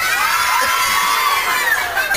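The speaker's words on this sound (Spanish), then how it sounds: "a la cuenta de tres, todo el mundo pega un grito." A crowd of children shouts together at a Christmas party for Latin American kids in Rome, one loud sustained cheer filling the whole moment.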